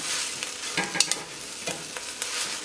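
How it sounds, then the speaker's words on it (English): Chopped spinach tossed and stirred in a hot pan, a steady close frying hiss broken by a few scraping, clattering stirs, with no voices. "you hit that to toss, because you want all those flavors from the bottom of the pan to mix in with the flavors of this chopped up spinach"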